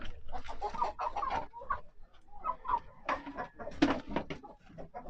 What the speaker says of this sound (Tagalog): Paim na itong mga manok dito sa may tubig oh.